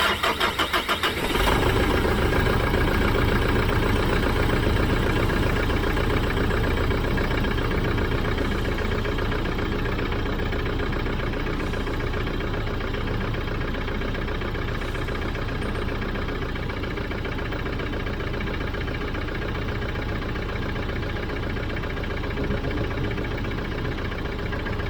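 Mitsubishi Triton L200 with a 4M41 diesel engine cranks and catches, then settles into a steady, loud, close idle with a constant low rumble running uninterrupted throughout.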